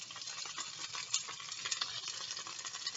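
Steak sizzles while it browns in butter in a frying pan, a continuous close hiss and crackle with occasional louder pops, with no talking.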